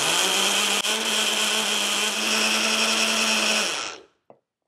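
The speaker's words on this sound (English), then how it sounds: "once this starts to blend, but I want to help my blender out just a tiny bit first" A blender pulses pesto ingredients in one loud, steady whir for about four seconds before it cuts off sharply, leaving a couple of faint knocks, and no one speaks.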